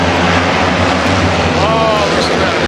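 Turbo UTV race engines roaring together at the start of a Production Turbo short-course race at Glen Helen, a loud dense engine roar with rising revs, heard under a commentator's talk.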